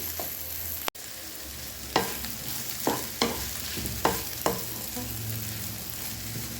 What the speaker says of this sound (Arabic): وبعد ما دبلنا البصل هننزل بالفراخ اللي احنا فصصناها وندي ايه تشويحتين حلوين كده